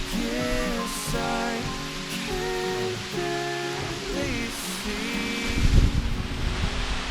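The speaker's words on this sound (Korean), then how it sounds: "폭포 물소리가 들립니다" A waterfall on the Gamaksan mountain trail in Yangju, Korea, gives a steady broadband rush heard from a distance, with tonal sounds layered over it and a louder surge near the end.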